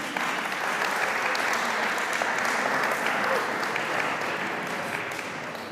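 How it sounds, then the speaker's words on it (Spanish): Audience applause opens a lecture on art, a full, steady round of clapping from a seated crowd that holds evenly throughout and tapers slightly at the end. "Pueden aplaudir."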